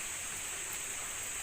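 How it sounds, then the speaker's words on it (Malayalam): Wind and rain sweep across the Idukki hills in Kerala as an unbroken, even hiss, steady and enveloping throughout with no other sounds. "സൗണ്ട് നിങ്ങൾക്ക് കേൾക്കാമായിരിക്കും. നല്ല കാറ്റുണ്ട്, മഴയാണ്, നല്ല തണുപ്പാണ്."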